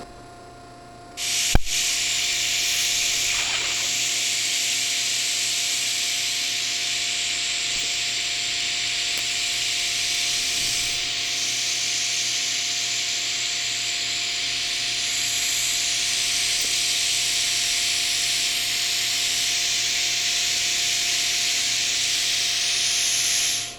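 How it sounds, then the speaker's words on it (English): A steady, loud hiss with a low electrical hum runs on for about twenty seconds as metal rose pieces are welded, starting after a sharp click and staying close and continuous. "next I'll go ahead and tack it and weld it right here"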